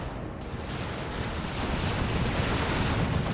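Dense, continuous rumbling blasts fill the whole stretch, a heavy booming barrage of cannon fire in the video game Warhammer 40,000: Dawn of War 2 that swells slightly louder toward the end.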